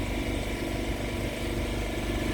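A small inboard engine on a Seahawk Hurley H22 sailboat motoring under sail on a river, giving a steady low puttering drone with a fine regular pulse throughout.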